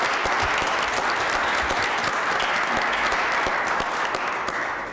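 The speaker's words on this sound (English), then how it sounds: "Give her a round of applause" Dense, steady audience applause at a Milwaukee street renaming ceremony honoring Dr. William Finlayson, greeting his daughter Sheila Finlayson; many hands clap loudly and evenly for about five seconds, easing slightly at the end.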